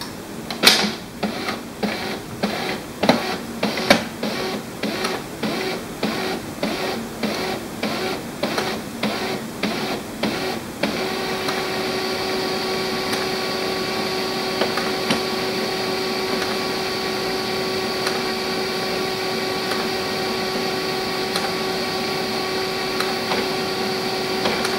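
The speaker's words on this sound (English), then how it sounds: "The printer is now powered on." An HP LaserJet MFP M233-series laser printer powers on, a run of rhythmic mechanical clunks and whirs for about ten seconds that settles into a steady humming drone, with no talk.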